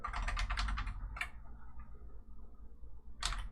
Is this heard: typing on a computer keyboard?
yes